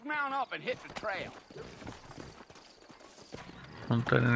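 Hooves of a ridden horse clop rhythmically in the Red Dead Redemption video game, moderately loud beneath people talking throughout.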